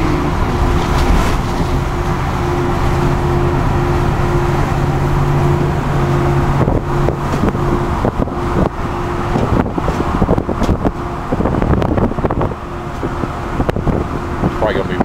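A car drives along a winding road, a steady loud rumble of engine and tyres mixed with wind buffeting. Rougher bursts of noise pile up in the second half.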